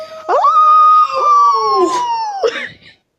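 A person lets out a long, loud howl-like wail, rising then sliding down, imitating a dog or wolf, close and alone for about two seconds.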